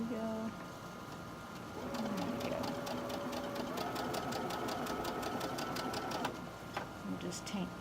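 Home sewing machine chain stitching quilt blocks for a barn block quilt, a steady rapid needle rhythm running for several seconds at moderate level, with faint birdlike cooing and brief background voices around it.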